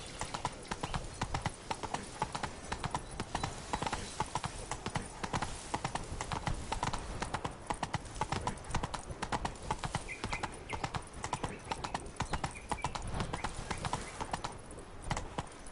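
A horse ridden through Beauclair in Witcher 3: Blood and Wine, its hooves clip-clopping in a fast, steady, continuous rhythm, loud and close, over quiet game ambience.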